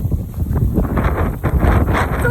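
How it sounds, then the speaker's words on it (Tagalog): Strong wind buffets the microphone outdoors by a river during a storm, a loud low rumbling roar with gusty surges throughout. "Sobrang lakas ng hangin dito."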